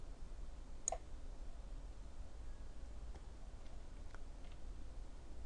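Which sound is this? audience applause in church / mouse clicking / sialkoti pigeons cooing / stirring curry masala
mouse clicking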